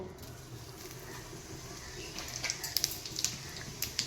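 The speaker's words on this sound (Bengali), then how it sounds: "আর এই শুকনো লঙ্কা ফোড়ন দেব আর এই জিরে ফোড়ন দেব" Dry red chillies and cumin seeds temper in hot oil for a small-fish curry, giving a quiet, steady sizzle that picks up sharp, scattered crackles and pops in the second half.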